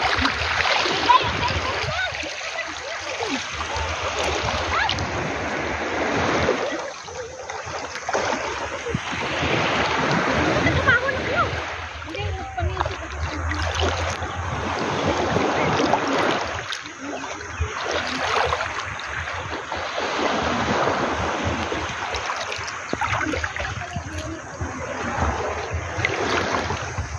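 Sea water splashing and washing at Pohang beach in South Korea, a steady broadband wash of surf and splashes lasting throughout, with wind and people talking over it.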